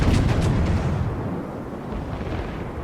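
Naval gunfire from a battleship in the video game World of Warships, a heavy booming salvo up front that rumbles and decays into a long, loud low roar.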